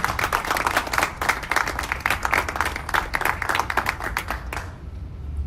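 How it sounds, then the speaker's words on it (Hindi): Loud, dense applause from an audience at an award ceremony during a community event in Najafgarh, steady clapping close by that stops abruptly near the end. "जोरदार तालियां।"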